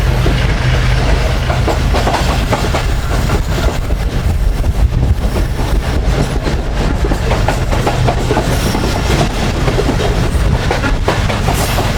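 The Pak Business Express, a Pakistani passenger train, rolls around a long curve close behind its locomotive, filling the air with a loud continuous rumble, rhythmic wheel clatter and hiss that never lets up.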